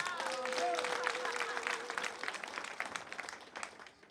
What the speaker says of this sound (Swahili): hũrĩra mwathani makofi